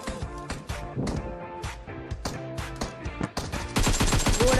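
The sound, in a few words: gunfire in PUBG Mobile video game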